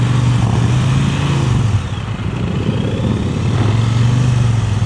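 A motorcycle rolls slowly through a riding exercise with the clutch slipped, its low engine drone steady and close, dipping briefly midway before settling back to an even idle-like hum.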